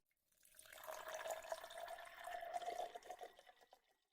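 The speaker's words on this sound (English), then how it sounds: "Pour just a little bit." A drink pours into a glass in one soft, gurgling stream that rises and fades over a few seconds, quiet and close, with no talking.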